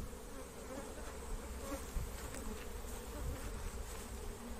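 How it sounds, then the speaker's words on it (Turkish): A dense, steady buzzing of many honey worker bees fills the air at an apiary hive entrance, close and continuous, with occasional louder passes of individual bees. "Buradan günlük işçi arılar"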